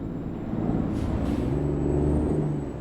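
Truck in Euro Truck Simulator 2 idling with a low rumbling engine, a couple of brief hissing air brake bursts early on, heard from inside the cab with a steady drone throughout.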